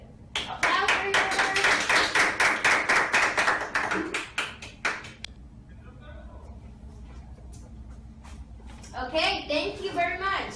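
Children applaud in a classroom during an English lesson: several seconds of dense, rhythmic clapping from a group that quickly thins to a few claps, then background murmur and children's voices.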